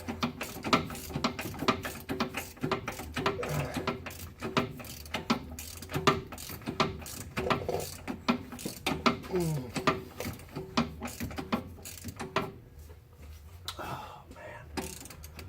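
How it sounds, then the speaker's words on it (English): A hand ratchet wrench clicks in rapid, uneven bursts while working near a belt in a vehicle engine bay, close and fairly quiet, with a brief exclamation from a man. "So as you can see, you're going to be ratcheting for a while."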